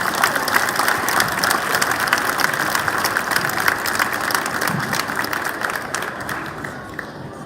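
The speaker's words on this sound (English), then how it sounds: "Congratulations, track athletes. Well done. Big round of applause." Crowd at a school year-end awards ceremony clapping for track athletes, sustained dense applause that slowly thins and fades toward the end.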